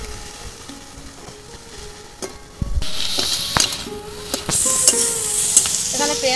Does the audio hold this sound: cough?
no